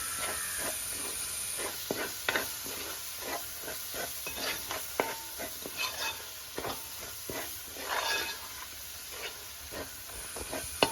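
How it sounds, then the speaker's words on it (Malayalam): Chopped tomatoes and masala stirred in a hot pan, with a soft steady sizzle broken by frequent scraping and clinking strokes of the spoon, close and fairly quiet. "നന്നായിട്ട് ഇളക്കി കൊടുക്കാം."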